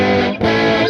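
Several layered, heavily distorted electric guitars from a guitar solo, forming a dense, continuous wall of overdriven tone, loud and without talk.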